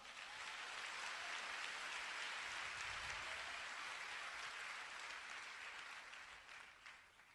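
An audience at a Nu Skin business convention applauds in a sustained, even wash of clapping that holds for several seconds and then tapers off at the end.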